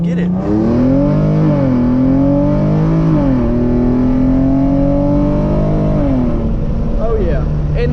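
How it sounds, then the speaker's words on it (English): A tuned Genesis Coupe 3.8 V6 revving loudly up and down in steady sweeps, the engine note rising and falling over a constant close rumble, with any rattle buried in the roar. "hear that annoying rattling sound so you know what I'm having to deal with"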